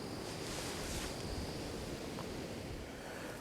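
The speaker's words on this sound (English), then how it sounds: "As you can see, there's still a lot of wind here today" Steady wind gusting outdoors by the sea at a sheltered spot in winter, a continuous loud rush with surf-like broadband noise and no voices.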